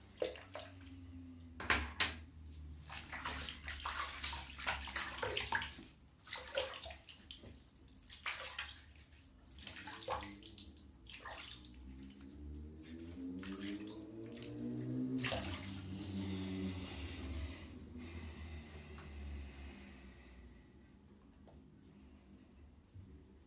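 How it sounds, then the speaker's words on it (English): Water splashing and running as a face is rinsed after a wet shave, irregular close splashes and sloshes over a steady tap, with a rising pitched flow near the middle before fading. "it's time to have a rinse and see what bits I missed"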